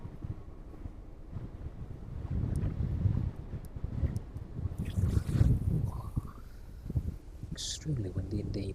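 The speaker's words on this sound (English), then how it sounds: "Extremely windy indeed." Strong wind buffets the microphone in uneven low rumbling gusts, swelling and easing over several seconds, with faint background sounds, at East Midlands Airport.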